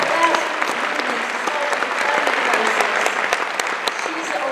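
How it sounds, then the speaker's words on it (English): An audience at a lecture event claps for an incoming speaker, a dense, sustained round of applause close by that runs throughout, with some voices mixed in. "Give her a round of applause as she's coming in"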